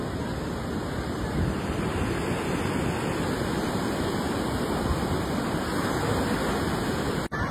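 Steady roar of sea waves breaking on a beach with aqua-coloured water, a continuous loud wash of surf close by with no pauses.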